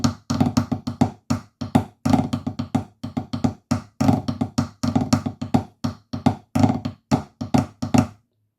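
Crisp, close drum strokes play the first part of the pipe tune Illawalla, a marine solo, in quick rhythmic phrases of rolls and accented hits with short pauses between groups.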